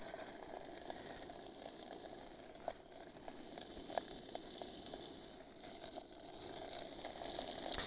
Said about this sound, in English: We're getting a sizzle, aren't we?